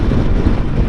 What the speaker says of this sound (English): It is windy as hell this morning because the storms are coming in.